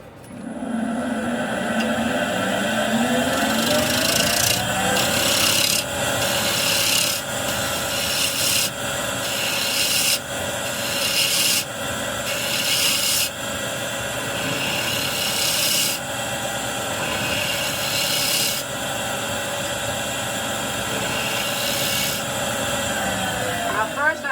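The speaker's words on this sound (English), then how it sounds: "This is just going to be a simple OG shape. Nothing too complicated. Do that with a spindle gouge." A spindle gouge shapes a simple ogee profile on a wooden box part spinning on a lathe. A continuous close scraping hiss runs throughout, marked by regular bursts of heavier cutting every second or so.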